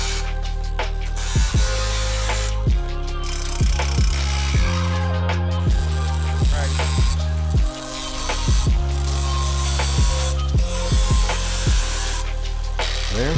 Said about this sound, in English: Just cut that off right there, and we'll grind this.